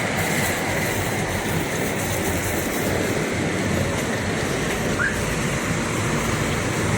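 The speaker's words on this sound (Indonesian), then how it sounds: "Suara mesin ini RM280. Halus banget ya, teman-teman." A Rosalia Indah Avante bus with an RM280 engine runs nearby, a steady, loud, even rumble that holds unchanged throughout with no voices.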